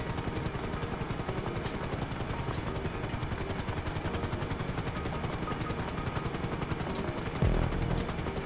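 Helicopter rotor chop in the video game GTA 5 Online during an online race, a steady dense loud drone with a rhythmic beat running throughout, joined by a brief heavier thump near the end.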